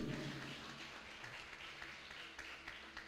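A church congregation breaks into broad applause, a steady wash of many hands clapping at moderate volume with a few sharper claps standing out, no speech over it.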